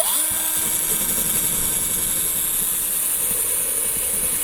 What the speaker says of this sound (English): Now I'm going to hit it with my electric drill and wire brush.